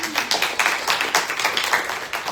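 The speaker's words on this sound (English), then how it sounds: "Can we give him a round of applause?" Audience applauding to welcome a guest at a Marianas diaspora panel event, a smaller crowd of distinct, uneven hand claps in a quick rhythm, close and moderately loud.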